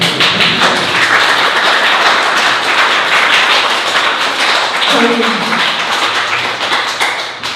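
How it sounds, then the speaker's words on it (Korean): An audience gives encouraging applause at a lecture, a dense burst of clapping that continues steadily for several seconds and tapers near the end, with a voice briefly heard over it. "이 타이밍에는 격려의 박수가 나와야 됩니다."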